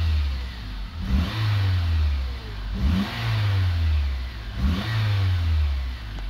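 A used Honda Accord Euro R CL7 engine revs three times in quick blips, each rise falling back to a steady idle, heard close with no talking.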